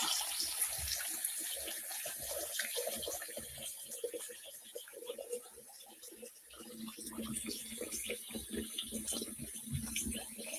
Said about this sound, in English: We're going to fill it back up. You see the sink is completely clean. All right. Now let's fill this up.